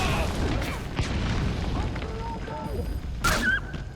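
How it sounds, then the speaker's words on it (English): Explosions go off in Metal Gear Solid 5: The Phantom Pain, a dense, sustained boom and rumble of game combat with a bright crash near the end, mixed with other game sounds. "Explosion!"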